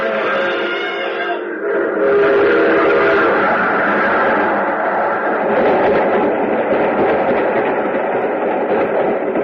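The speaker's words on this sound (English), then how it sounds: "There's a train coming." A train passes as a sound effect in an old-time radio detective drama, opening with a loud sustained whistle and giving way to a heavy, continuous rumble of rolling cars that fills the rest of the clip.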